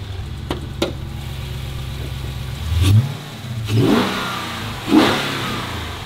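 A salvaged, totaled Dodge Challenger 392 Scat Pack V8 idles with a steady lumpy burble, then gets blipped in three sharp revs that flare and fall back, close up and with no talking.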